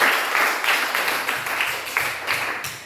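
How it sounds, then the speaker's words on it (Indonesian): Students in a classroom applaud a classmate after an answer in a maths lesson, a steady patter of many hands clapping at moderate volume for a few seconds. "Silakan tepuk tangan dulu buat kawan"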